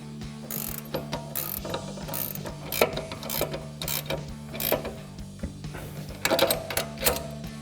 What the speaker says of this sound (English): Tighten this down. You want the ratchet in reverse.